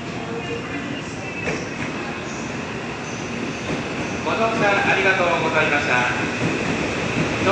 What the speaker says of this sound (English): The train on platform 21 is now departing as an empty train.